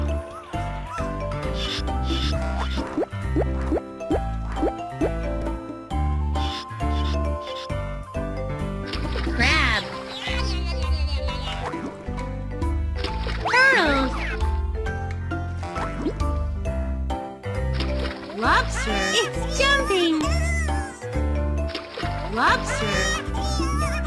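Bubbles popping and gurgling in the Baby Panda Happy Fishing kids' game, with bright bloops and drips under cheerful game music and chimes.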